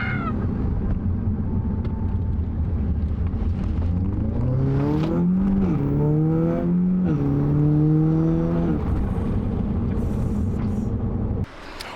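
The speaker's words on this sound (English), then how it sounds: "this sounds like a completely different car" A tuned Audi S3 with a stage 2 upgrade revs several times, its engine note climbing and falling in sharp rising sweeps over a steady idle before cutting off abruptly.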